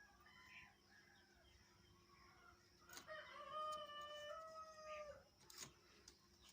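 Chickens cluck and a rooster crows in the middle, moderately close, with some quiet background voices.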